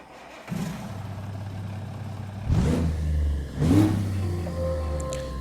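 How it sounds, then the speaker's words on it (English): Truck engine in American Truck Simulator cranking and starting after a silent moment, settling into a low idle, then revving up twice in loud surges before easing back to a steady rumble, with no talking. "Nice engine. I haven't really changed out this engine at all ever since I first put this truck together"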